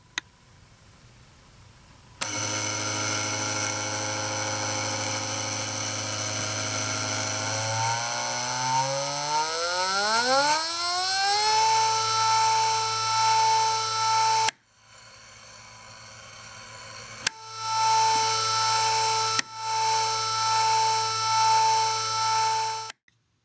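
Two-phase stepper motor running on a CVT driver: a loud steady whine with a low hum whose tones sweep and shift partway through, then cuts off briefly and resumes in several close, sustained stretches.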